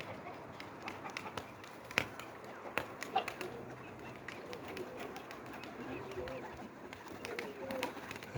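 Soft pigeon coos and scattered bird calls outdoors, with occasional sharp taps and flutters against a quiet background.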